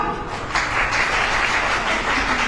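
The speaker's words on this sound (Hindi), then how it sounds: "बजाइए तालियां इस बात पे, बजाओ" Steady applause from a crowd at a Savitribai Phule birth anniversary lecture, continuous clapping that swells slightly after the start and holds at a full, even level.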